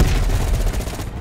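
A short loud burst of gunfire in the shooter Call of Duty Black Ops Cold War, fired at a light, a dense rattle of shots with heavy low rumble, close and alone.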